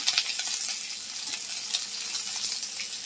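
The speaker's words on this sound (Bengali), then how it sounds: "পটলটা আমি ভেজে নেব।" Pieces of pointed gourd (potol) with salt fry in a pan, giving a loud, steady, close sizzle throughout with faint stirring touches and no voices.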